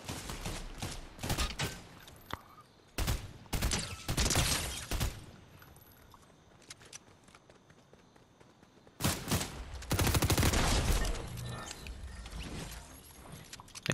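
Video game gunfire comes in loud clusters of rapid shots, with several sharp bursts separated by quieter gaps and one longer sustained volley.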